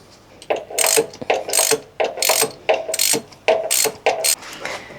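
Repeated ratchet clicking in short bursts, close up, with brief pauses between strokes as a wrench works loose a spark plug from an RB30E engine's cylinder head.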